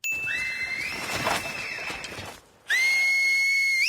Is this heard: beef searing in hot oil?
no